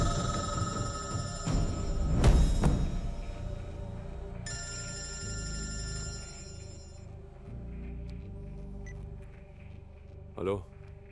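A telephone rings in a film scene, a bright electronic ringtone sounding in bursts over a low background rumble, with a short sharp noise near the end.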